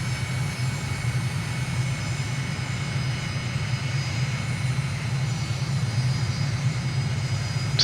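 Steady drone of a light plane's engine in a flight simulator during an approach for a touch-and-go, continuous and even throughout, loud and close with no talking.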